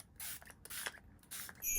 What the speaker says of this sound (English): Using the Iconic London setting spray just to add a bit of